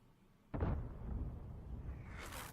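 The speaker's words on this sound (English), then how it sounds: "he fired a round in there speculatively" A tank gun round fires in the video game M12: one sudden heavy boom, followed by a sustained rumbling tail and a rising rush of noise toward the end.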